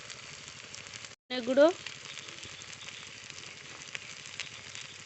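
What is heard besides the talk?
spices sizzling while frying with spinach and potato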